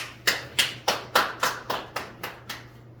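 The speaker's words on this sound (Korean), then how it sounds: "위로의 박수" A classroom of students gives a short round of consolation applause, nine loud, evenly spaced claps in steady unison that fade slightly toward the end.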